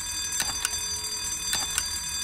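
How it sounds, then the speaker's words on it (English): Alarm ringing in the horror video game White Day, school setting: a steady electronic clock-alarm tone with repeated paired bursts of ringing, loud and alone with no talk. "This fucking alarm."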